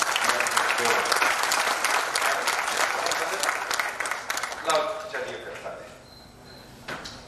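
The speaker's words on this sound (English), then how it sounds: "Can we have a big round of applause for him?" An audience at a talk in Ludhiana gives a full round of dense applause that holds steady, then thins after about five seconds into a few scattered claps and quiet room sounds.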